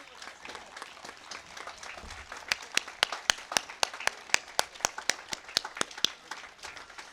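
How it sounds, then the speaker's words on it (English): An audience at a Veterans Day ceremony breaks into applause. It starts as a soft scatter of clapping and builds into a fuller round with sharp, distinct hand claps close by. "Yes, big round of applause."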